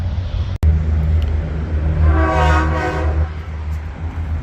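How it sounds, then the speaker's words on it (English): A sustained horn blast over steady low traffic rumble, rising and fading over a couple of seconds in the middle. "Wonder if he was honking at me."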